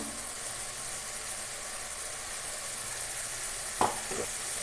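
Spices and oil sizzle steadily in a pan while cooking a hilsa fish dish, a continuous bright frying hiss with a couple of sharp spoon scrapes near the end.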